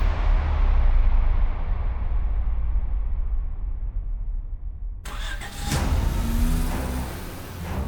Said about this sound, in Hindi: चलो गाड़ी चलाओ